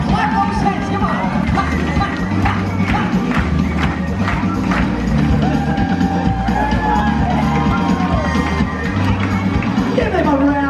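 Onboard a Carnival Mardi Gras cruise ship, a lively crowd cheers and whoops for a Mardi Gras king and queen's entourage, a steady babble of voices and shouts over background music.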